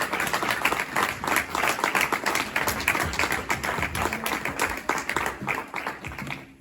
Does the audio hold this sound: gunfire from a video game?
no